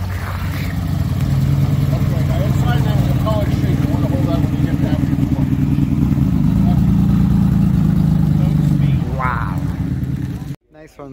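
A 1954 Arnolt Bristol Bolide sports car pulls in at a classic car show, its engine humming and revving at mid pitch, loud and close under excited talk, then cutting off abruptly near the end.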